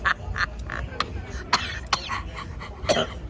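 Several short rough COVID coughs and throat-clearing bursts, close up, scattered irregularly across a few seconds with brief pauses between them.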